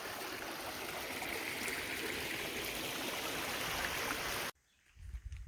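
Water pours steadily over a beaver dam along the Appalachian Trail in Vermont, a loud continuous rushing stream that cuts off abruptly near the end, leaving quiet outdoor ambience.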